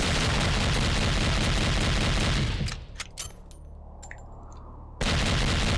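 Rapid, loud gunfire from the golden gun in the video game Agent Under Fire, a dense continuous burst that cuts out briefly with a few scattered shots and then resumes at full volume.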